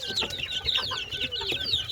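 Chickens cluck busily in a poultry coop in Bursa, overlapping short clucks and squawks up close, with no talking.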